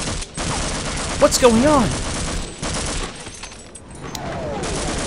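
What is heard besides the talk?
gunfire from soldiers in video game Half-Life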